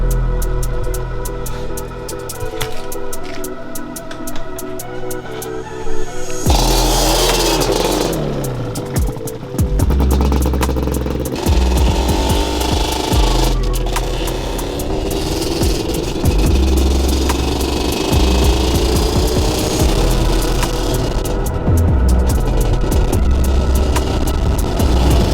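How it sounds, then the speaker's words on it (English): A Mini G two-stroke engine idles with a rapid popping putter, then revs sharply in repeated bursts of buzzing, rising and falling tone, close by and loud, with no voices over it. "I love that 2-stroke"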